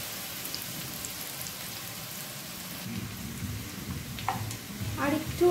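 Chopped garlic and ginger sizzle in hot oil for dhaba-style egg tadka, a steady hiss and crackle that swells louder toward the end.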